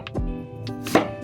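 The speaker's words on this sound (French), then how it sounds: "je vais la couper" A knife cutting an aubergine into sticks, with a few sharp chops against the board close by, separated by brief pauses and set over soft background sounds.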